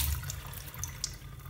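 Tap water runs steadily into a container of water while mushrooms are being rinsed, a faint, continuous splashing hiss with a few small bright drips, no one talking.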